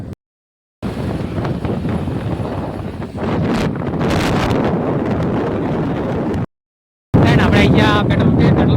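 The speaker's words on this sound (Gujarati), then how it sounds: "જઈ રહ્યા જો આપણે બાઇકમાં ચાલ્યા છીએ." Wind roaring across a microphone while riding a motorbike, a loud sustained rush with short dropouts, and a voice briefly audible through it.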